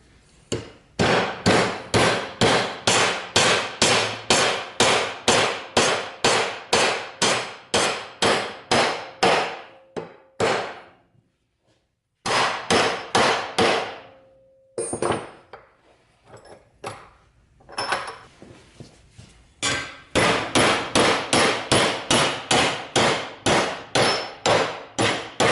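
Repeated loud hammer blows ring out as a steel plate is bent into a snowblower skid shoe, coming in steady rapid bursts with a few short pauses between series of strikes.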